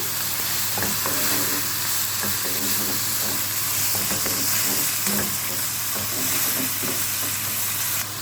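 Liver sizzling steadily in a hot frying pan, a continuous close crackle and hiss with occasional stirring scrapes and clinks throughout, no voices.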